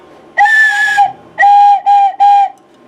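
A hand-blown whistle sounds four times up close: one long blast, then a long one and two shorter ones in quick succession, loud and shrill with no voices.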